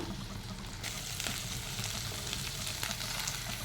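Garlic sizzles in hot oil in a pan alongside frying okra, a steady, close crackle that runs the whole time with no voices.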